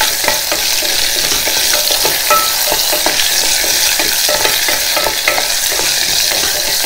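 Onions sauté in a hot pan for garlic kuzhambu, giving a loud, continuous sizzle broken by frequent crackles and stirring scrapes throughout.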